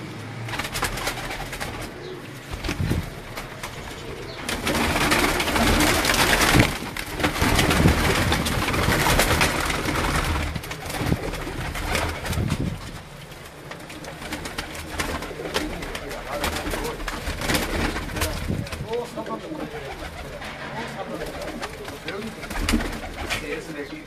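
Kamgar pigeons coo in soft, repeated throaty calls over a steady background, with someone talking at intervals among them.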